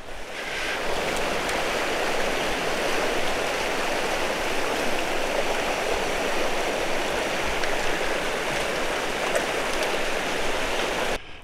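Palliser River in the Canadian Rockies, a cold, major mountain river rushing steadily with a broad, continuous roar, close and loud, with no voices.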